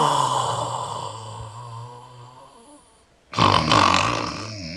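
A man snores loudly and close by, long rasping breaths rumbling steadily, then a brief pause before another heavy, harsher snore starts abruptly.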